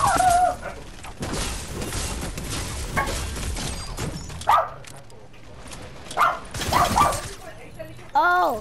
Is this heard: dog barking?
yes